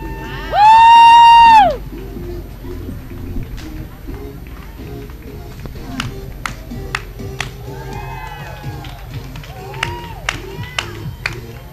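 Crowd cheering and scattered clapping at a street parade for a gymnastics and cheer team. A long whistle blast sounds early, then there is a busy mix of voices, claps and sharp shouts, and people talk throughout.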